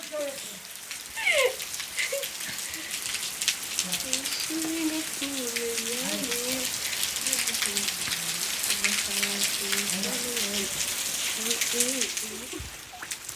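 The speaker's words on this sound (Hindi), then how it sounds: "भाई मूसलाधार बारिश हो चुकी है शुरू" Heavy monsoon rain pours down steadily across a village, a dense hiss of drops drumming on surfaces throughout, with a voice talking over the downpour.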